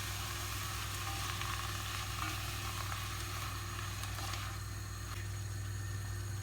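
Beans and tomatoes sizzle steadily in a pan of frying onions, a constant dense crackle with a low hum beneath and no pauses.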